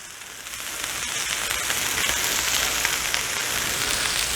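BBQ smashburger patties sizzle on a Blackstone griddle with a loud, steady crackling hiss that builds slightly and holds throughout, close up and with no talking.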